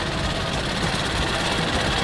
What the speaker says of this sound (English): we are about to hop on a long tail boat